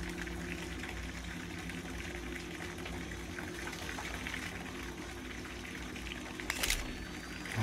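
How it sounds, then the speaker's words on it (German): Running water fills a bathtub in the horror video game Visage, a steady rushing pour that holds at an even, moderate level with a brief louder splash near the end. "warum zur Hölle wird hier gerade Wasser eingelassen?"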